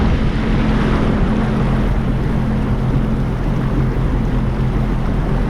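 A Sea-Doo personal watercraft runs steadily through bay water near Tilghman Island, its engine drone blending with continuous wind and water rush at close range, with no pause or change in pace.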